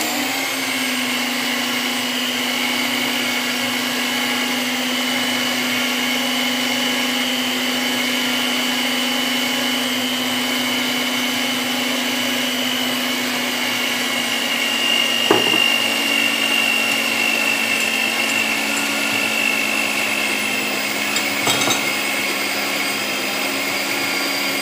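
A stand mixer kneads bread dough of milk, yeast and egg, giving a steady, loud mechanical whir with a constant motor hum and a couple of brief clunks near the end, no voices.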